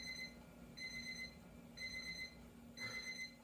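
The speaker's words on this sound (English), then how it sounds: "that's my timer going off, letting me know that I was on time" A kitchen timer goes off while margarita pies are being made, sounding four evenly spaced bursts of high electronic beeping over a steady background hum, with no voices.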